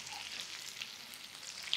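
Onions frying in a pan for prawns Manchurian, a soft, steady sizzle with faint crackles, brief and close.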